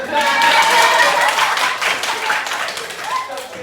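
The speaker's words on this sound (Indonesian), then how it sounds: "Oke, beri aplaus dulu." Scattered clapping from a classroom audience, brisk and moderately loud, slowly tapering off over a few seconds.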